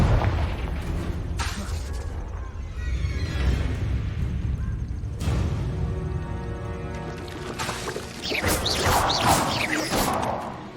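Confringo fire-spell blasts in the Hogwarts Legacy video game, a string of loud booming explosions with whooshing bursts and crashing debris, rolling over one another in dense, continuous combat.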